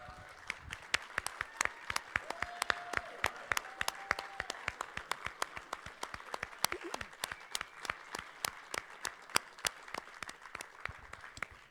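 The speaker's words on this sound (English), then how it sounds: "please stand up, and we want to give you guys a big round of applause." Sparse, irregular hand claps from a convention audience at a pony fan convention's closing ceremony, fairly faint and roomy, scattered individual claps spread over several seconds with occasional distant voices beneath.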